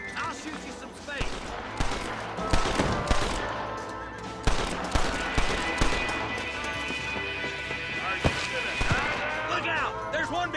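Video game gunfire in Red Dead Redemption, a western shootout with scattered shots and rapid bursts mixed with game sounds and music, under character voices talking.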